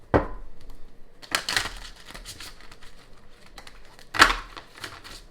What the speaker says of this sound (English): One more shuffle, and we're going to move on.